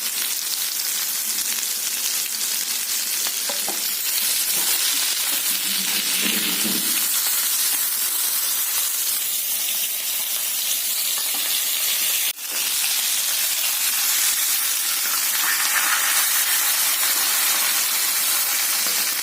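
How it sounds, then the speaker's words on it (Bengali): Fish frying in a hot pan sizzles with a steady, dense hiss that carries on throughout, close and even, with a brief spatter and no talking. "মাছ ভাজা হয়ে গেছে এবার এর মধ্যে আমি মাছটা দিয়ে দেবো"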